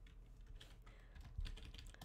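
Typing on a computer keyboard during a gaming livestream, a quick run of faint, uneven key clicks close to the mic over a steady background hum.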